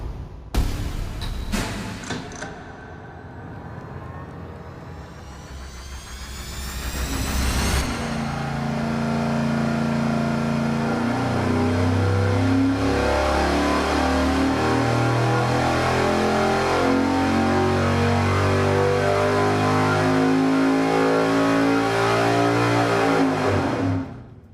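A 13:1 compression V8 engine on a dyno makes a baseline pull: a few short revs and a brief idle, then a loud, sustained roar climbing steadily in pitch for about fifteen seconds before cutting off.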